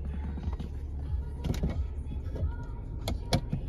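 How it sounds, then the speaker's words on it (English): A Toyota Tundra SR5 TRD Off Road's power rear sliding glass window motors down. It makes a low mechanical hum close to the microphone, with several sharp clicks and knocks scattered through it. "coolest Toyota feature ever is that backsliding glass that goes all the way down"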